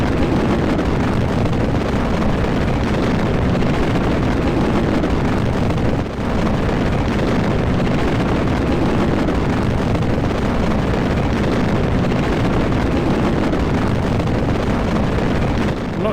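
Rocket engines in the video game Kerbal Space Program: a steady, dense, roaring broadband rush that holds unbroken and loud for the whole stretch, like a constant thrust blast.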